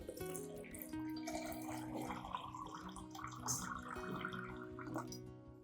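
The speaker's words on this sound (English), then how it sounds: "Then add 1 liter of water to dilute the solution." Water runs and splashes steadily into a container, a continuous pouring sound with some clinking, close and fairly loud throughout, as a liter of water is added to dilute a plant-spray solution.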